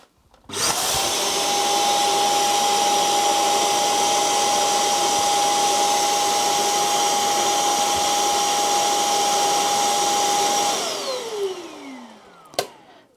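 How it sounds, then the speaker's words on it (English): A Shark robot vacuum's self-emptying dock switches on and sucks the debris out of the robot's bin: a loud, steady whining roar with a high tone runs about ten seconds, then falls away, followed by a single click. "the little flap there opened and it sucked out anything that was within the bin"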